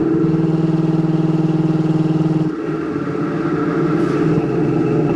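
A 1976 Pontiac Trans Am cruising at 65 mph just under 3,000 RPM, its engine giving a loud, steady, close drone throughout, with a brief dip in tone midway as the load shifts on a bumpy road.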